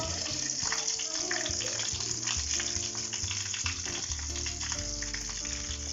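Chopped leeks sizzle and fry steadily in a hot pan over a bed of busy, continuous crackling, loud and close with no talk.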